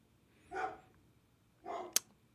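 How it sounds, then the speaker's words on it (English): A dog barks twice in the background indoors, two short, muffled woofs about a second apart, fairly faint, with a sharp click just after the second. "my dog is barking in the background"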